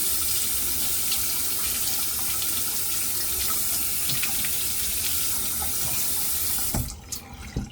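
Tap water running steadily into a sink while the face is wetted for shaving, a continuous close rushing splash that cuts off near the end, followed by a few small drips and handling sounds.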